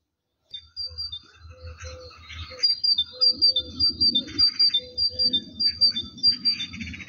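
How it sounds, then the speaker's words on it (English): A great tit or blue tit sings in a garden with repeated high, thin chirping phrases. Lower twittering and a soft insect-like trill run underneath, all at moderate loudness and fairly close. "I think it's a greater tit or blue tit"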